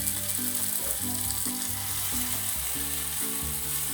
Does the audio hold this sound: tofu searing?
yes